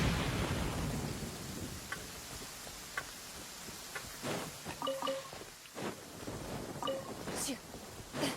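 Steady rain hisses over a Genshin Impact landscape while rolling thunder rumbles in several bursts, with droplets pattering throughout and a faint voice appearing briefly.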